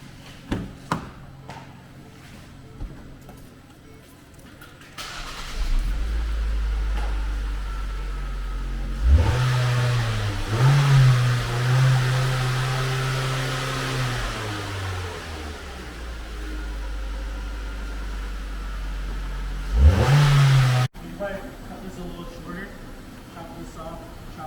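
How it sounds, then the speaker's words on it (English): A 2011 Ford Focus engine cranks and catches, then idles loudly nearby with a couple of sharp revs before cutting off, following some clicking handling noises. "see if the car starts."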